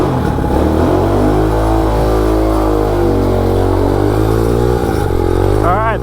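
A MotoVox minibike fitted with a 200cc dirt bike engine idles and revs loudly up close, a continuous throbbing engine rumble with slight rises in pitch, and a voice can be heard over it.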